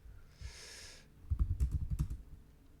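Keys on a computer keyboard are pressed in a quick cluster of several close clicks and taps after a brief hiss, with no talking.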